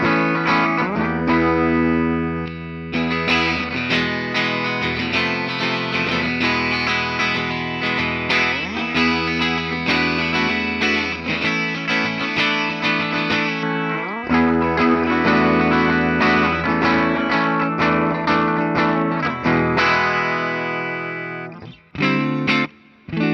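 A 2004 Peavey EVH Wolfgang electric guitar, Custom Shop model, plays loud distorted riffs with its bridge pickup coil-split, dense sustained chords and quick picked notes ringing steadily with effects, no talking.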